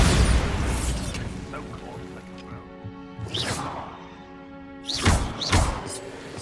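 Bombarda blasting spell going off in the Hogwarts Legacy video game, a pair of sharp booming bursts with crashing debris over a steady rumbling game background, the second blast near the end.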